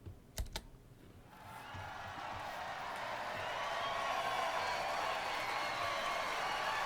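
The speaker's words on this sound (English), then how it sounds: "The crowd let out a huge cry of joy upon hearing that." A large crowd cheers and roars with joy at a concert in the visual novel CHAOS;HEAD NOAH, the sound swelling from a few sharp taps into a sustained, broad wall of cheering that keeps growing louder.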